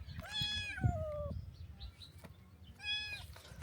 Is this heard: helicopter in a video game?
no